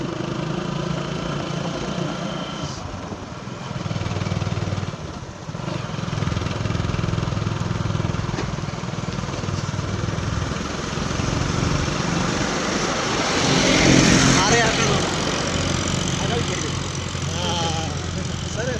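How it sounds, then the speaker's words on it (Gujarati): A tractor drives ahead on a hill road at sunset, its engine a steady, fairly loud rumble mixed with road and wind noise that swells briefly near the end. "આપડે આગળ એક ટ્રેક્ટર જાય છે"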